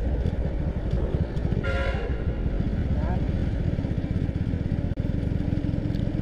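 Many motorcycles idling and rumbling in a queue at a roadside checkpoint, a dense low engine murmur throughout with a passing higher whine and occasional knocks, heard from close by.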